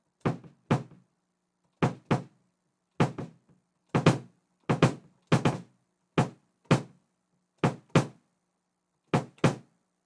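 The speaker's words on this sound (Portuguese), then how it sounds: "Observa eu batendo com o calcanhar e ele voltando e eu batendo com o rebote" Bass drum pedal struck with the heel and let rebound, producing about a dozen dull, punchy kick thumps in quick pairs and singles, close and isolated against silence.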